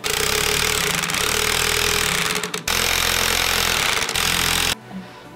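A power tool, likely an impact wrench, drives spring compressors tight on a Subaru Legacy coil spring, rattling and hammering loudly in two long bursts separated by a brief pause, then stopping abruptly.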